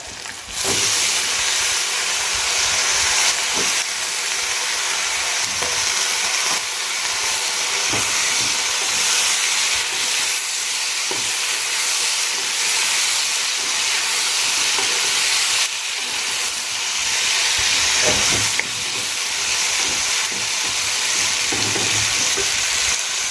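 Washed bitter gourds fry in hot oil with a steady, loud, broadband sizzle that holds for the whole stretch, broken by occasional stirring clinks and scrapes, with no talking.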